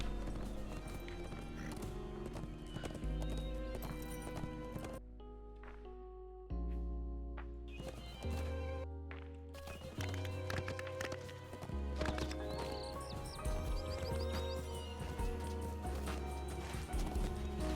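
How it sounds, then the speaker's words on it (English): A horse ridden in the video game Lord of the Rings Online, its hooves clip-clopping in a steady rhythm over continuous game music, with a brief whinny. "most of the time I'd be using a horse like I am now"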